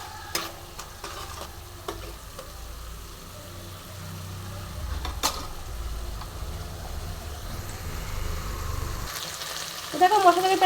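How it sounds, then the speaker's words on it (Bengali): Spiced masala paste for an egg and okra curry fries and is stirred in a pan, a steady low sizzle broken by scraping strokes and a few sharp clinks of the spoon, with a louder clatter near the end. "এবার মশলাটা আমি ভালো মতন কষে নেবো,"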